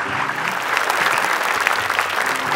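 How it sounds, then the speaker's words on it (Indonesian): Steady, dense applause from a studio audience on an Indonesian TV talk show, loud and continuous throughout with no pauses. "Yuk kita tepuk tangan, Ji."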